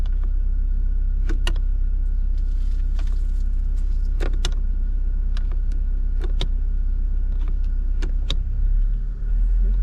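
A Mazda car engine idles steadily to warm up, a constant low rumble close by, with scattered sharp clicks and taps over it.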